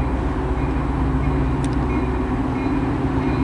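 A BNSF commuter train pulls into Naperville station, a steady, loud, broadband rumble of engine and wheels that holds even throughout, with no speech.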